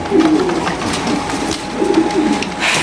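Caged pigeons cooing nearby, a few soft throaty coos in quick repeated phrases over light background chatter and rustle.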